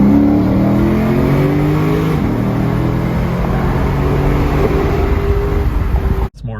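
A 2015 Lexus RC F in sport mode pulls hard under acceleration, its engine note loud and steady throughout with rising harmonic tones, cutting off abruptly near the end.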